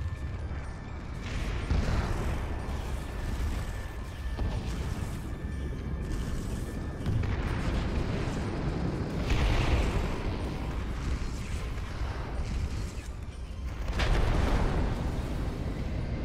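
Mech missile explosions in the Vox Machinae video game, a continuous loud mechanical rumble of a giant walking robot punctuated by several heavy blasts spaced a few seconds apart.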